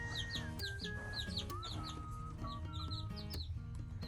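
Broody hens with their chicks cluck repeatedly in a rhythmic series of short calls, accompanied by higher chirps and a steady hum of background noise.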